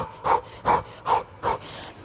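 Four sharp, evenly spaced exhales, close and fairly loud, each marking a straight punch or jab during a no-equipment upper-body workout, with quiet gaps between.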